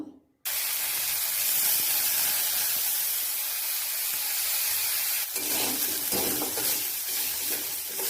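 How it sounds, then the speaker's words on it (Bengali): Rice and red lentils hit hot oil in a wok with a sudden loud hiss that settles into a strong, steady sizzle, stirred now and then, with no voices. "কড়াইতে তেল দিয়ে দিলাম ভাজার জন্য, তেলটা বেশ গরম হয়ে গেছে, এখন দিয়ে দেব।"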